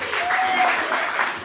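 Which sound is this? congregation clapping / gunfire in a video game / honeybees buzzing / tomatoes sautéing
congregation clapping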